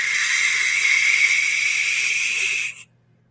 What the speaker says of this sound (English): When they screech, it's like a screeching sound.